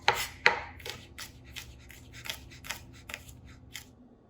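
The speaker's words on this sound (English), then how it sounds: "And then we're gonna finely dice it." A knife finely dices vegetables for a green risotto on a cutting board, a quick run of about a dozen crisp, evenly spaced chops, the first two loudest, close and without speech.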